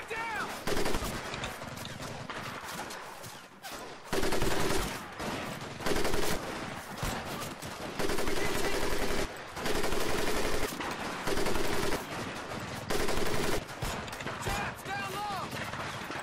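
M1 Garand rifle fire in Medal of Honor: Pacific Assault, set on Guadalcanal, cracks out in repeated bursts amid heavy surrounding battle gunfire, loud and dense across the whole stretch.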